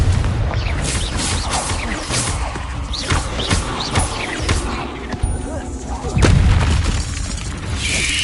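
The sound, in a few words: Confringo spell explosions in Hogwarts Legacy video game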